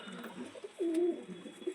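A pigeon in a loft gives a single short, soft coo, faint against a quiet background.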